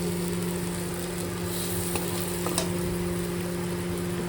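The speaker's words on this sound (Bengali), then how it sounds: "তার মধ্যে নুন হলুদ জিরে ধনে দিয়ে এবার ভালো করে কষিয়ে নিচ্ছি" A spice paste with salt, turmeric, cumin and coriander sautés in hot oil, giving a steady, close sizzle with a low background hum and a couple of faint utensil taps.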